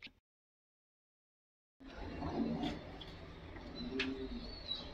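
After a short silence, a Madrasi pigeon coos softly amid faint background noise, with a few low, throaty calls.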